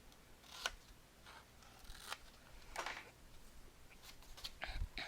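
Scissors snip through paper to cut a 6 by 7.5 inch album flap, a few quiet separate crisp cuts spaced across a hushed room, ending in a slightly louder cluster of snips.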